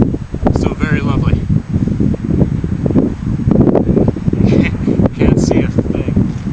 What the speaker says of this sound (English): It's actually quite windy up here.